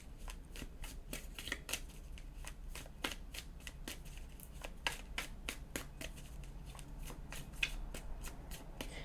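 Tarot cards being shuffled and handled close by, with rapid, crisp riffling clicks and snaps continuing steadily and no talking.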